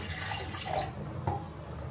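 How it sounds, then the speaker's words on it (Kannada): Water is poured into a mixer grinder jar while making temple-style Mangalore cucumber sambar, giving a steady, close splashing trickle with no talk. "ಹಾಗೆ ಮಿಕ್ಸಿ ಜಾರಿಗೆ ಸ್ವಲ್ಪ ನೀರು ಸೇರಿಸ್ಕೊಂಬಿಟ್ಟು"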